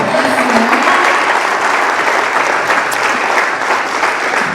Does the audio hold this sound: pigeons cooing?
no